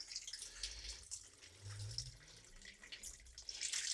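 Water pours from a watering can into a soaked plant halo around cucumber and tomato plants in a greenhouse, a steady splashing flow that rises and falls, fairly close, with no talk.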